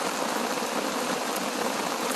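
Steady heavy rain pours on a mountain trail near Towangseong Falls in Seoraksan, a dense, even hiss of falling drops that fills the whole moment with no voices.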